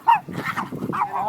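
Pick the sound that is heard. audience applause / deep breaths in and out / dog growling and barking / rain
dog growling and barking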